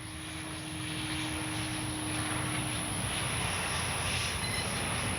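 A Durafly Excalibur V2 electric RC airplane climbs in flight, its motor a steady, high whine holding over broad wind-like noise outdoors, fairly loud and continuous with no talk.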